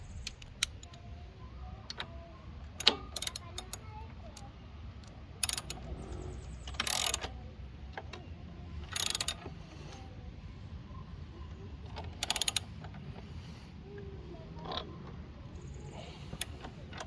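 Bolts being tightened during installation of a Talaria Sting electronic power pedal kit, a close series of sharp ratcheting clicks in short bursts separated by quiet pauses.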